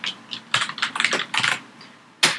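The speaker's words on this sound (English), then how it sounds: "Now my keyboard is very loud" Rapid bursts of keystrokes on a loud computer keyboard, clattering in uneven clusters with short pauses between runs, close and clear with no talking.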